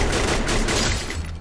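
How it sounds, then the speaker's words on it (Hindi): Rapid gunfire from the video game Free Fire rattles in a dense, continuous burst of shots, loud and close, easing slightly near the end, with no talking. "गोली क्या चला रहा मेरे पे?"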